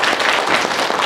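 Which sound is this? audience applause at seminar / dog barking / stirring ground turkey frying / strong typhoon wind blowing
audience applause at seminar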